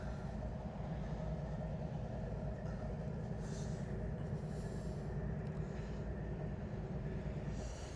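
Grain train rolling past in Nortonville, Kentucky, a continuous low rumble and clatter of railcars held at moderate distance, steady throughout with faint higher squeals drifting in and out.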